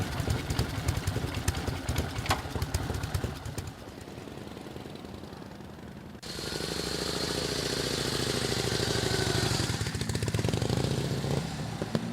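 A motorcycle engine runs close by while the clutch is engaged, first a rough, knocking idle, then a steadier, louder mechanical drone after a sudden change halfway through, with no speech.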